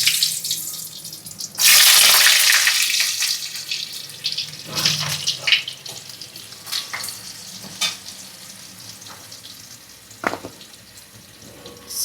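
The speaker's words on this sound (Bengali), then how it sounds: "তেলটা গরম হলো, সাদা তেল দিয়ে এবারে আলুটা ভাজা হচ্ছে।" Potatoes fry in hot white cooking oil, a loud burst of sizzling that flares, eases into a steady crackle, and returns in short spits and stirring scrapes.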